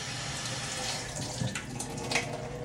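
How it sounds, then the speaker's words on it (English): Tap water runs steadily into a kitchen sink as something is rinsed off, a close, even splashing hiss for a few seconds with no voices. "let me wash this off right quick"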